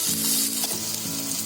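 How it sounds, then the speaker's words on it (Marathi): Potatoes fry in hot oil in a pan, giving a steady, close sizzle and crackle that runs unbroken through the short stretch with no talking. "हा पॅन ठेवते, बटाटे फ्राय होतात आहे."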